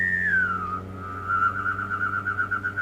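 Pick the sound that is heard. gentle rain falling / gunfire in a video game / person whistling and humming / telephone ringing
person whistling and humming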